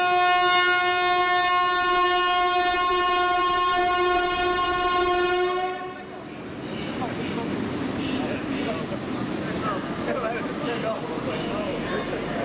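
A loud, sustained locomotive horn blares for about six seconds, then cuts off, leaving rumbling rail noise and a voice talking underneath.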